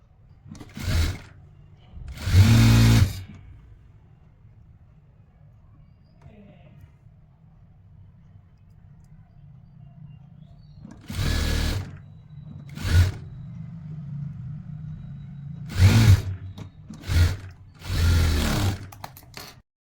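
A sewing machine stitches a baggy winter shirt, running in short, loud mechanical bursts separated by quiet gaps, close by and on its own.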